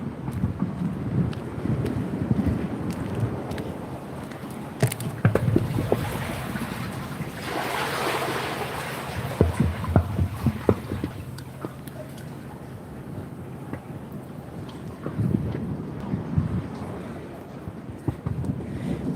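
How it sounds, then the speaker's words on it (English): Ocean waves washing onto a beach near a lighthouse at the island's western point, a rolling surge that swells and recedes over several seconds, mixed with gusty wind buffeting the microphone and no talk. "It's the waves."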